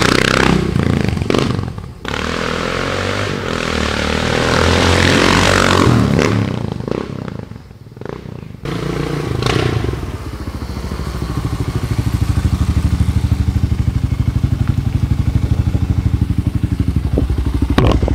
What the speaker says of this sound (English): This is one of my favorite, all-time favorite motorcycles.